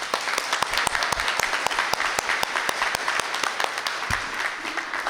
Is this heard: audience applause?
yes